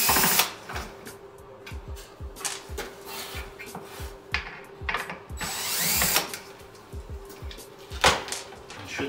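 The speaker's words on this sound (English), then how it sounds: "So now we have to take two Allen screws out the ends." Allen screws being backed out of the metal end caps on an LED light bar, with repeated close ratcheting, clicking hand-tool turns in short bursts and a steady faint hum underneath.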